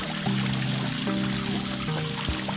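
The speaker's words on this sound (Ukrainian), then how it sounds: "Ось такий нестандартний вигляд водоспада, але мені дуже дуже подобається, як мокра стіна." Water runs down a wet-wall style waterfall into a 75 m² garden eco-pond, making a steady, continuous trickling and splashing wash with faint tonal sounds in the background.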